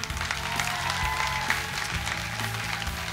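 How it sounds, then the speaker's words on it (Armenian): An audience at a televised final concert claps in a steady wash of applause for about three seconds. Faint tonal music or voice carries beneath it. "ձեր ծափարությունները"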